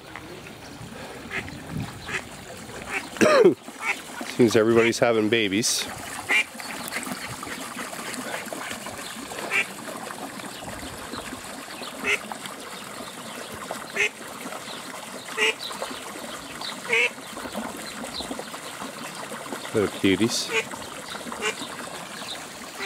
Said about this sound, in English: And here you got a little duck pond.